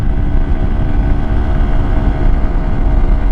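Honda XR150L dual-sport motorcycle engine held at full throttle in fourth gear while climbing a hill, a steady, loud, continuous low drone with rumbling wind noise and no break throughout.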